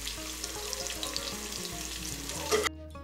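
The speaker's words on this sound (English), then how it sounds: "so I'll fry my onions first, and then the tomatoes" Onions frying in a pan for a home-cooked village dinner, a steady crackling sizzle with a few stirring scrapes that cuts off abruptly near the end.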